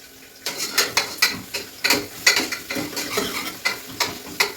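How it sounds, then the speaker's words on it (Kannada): A spoon scrapes and stirs ingredients frying in a pan for potato kurma, about a dozen rhythmic strokes over a soft sizzle, close and clear with no talk. "ಕೆಂಪು ಚೆನ್ನಾಗಿ ಫ್ರೈ ಮಾಡ್ಕೊಂಡಾಯಿತು"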